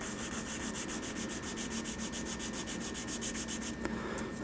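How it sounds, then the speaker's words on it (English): A medium grit sanding stick rubs rapidly back and forth over a plastic model car part for a Nissan GTR R35 kit, producing a close, steady rhythmic scratching with fast even strokes. "with a medium grit sanding stick, I'm just going to remove all that raised detail."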